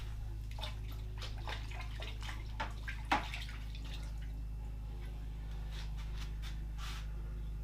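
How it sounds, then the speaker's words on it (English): Water runs steadily over a GM 6T70 transmission part, with faint drips and splashes and one sharper splash near the middle, quiet and close under a low constant hum. "We're going to wash this off, and then that slides down into there."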